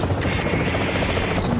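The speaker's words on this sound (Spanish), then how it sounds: "Ese fue el helicóptero." A helicopter in the video game The Division thrums with a steady, close rotor chop for a brief moment, loud and continuous with no voices over it.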